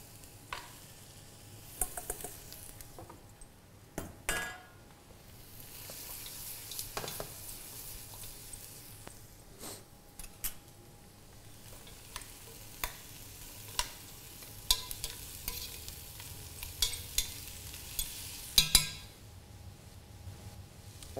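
A stripped chicken carcass fries in a pan, with a steady low sizzle broken by repeated sharp scrapes and clinks of stirring at irregular intervals, close and moderately loud, with no voices.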